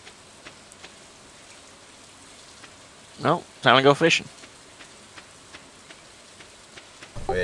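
Rain falls in the farming video game Stardew Valley as a soft, steady patter under game sounds, with a couple of people talking briefly over it.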